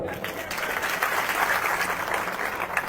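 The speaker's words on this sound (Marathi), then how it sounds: "टाळी एकदा जोरदार" Strong crowd applause at a large Maratha rally, a dense, sustained roar of many hands clapping throughout, loud and even.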